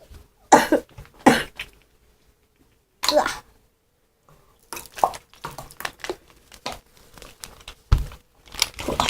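Several harsh, close coughs from someone with a bad cold come in separate bursts, with quieter rustling and throat sounds between them.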